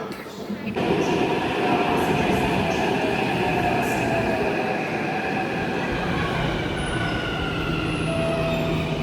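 A Hyderabad Metro train runs with a loud, steady rumble and rolling rail noise, a faint high squeal riding on top, close and continuous throughout.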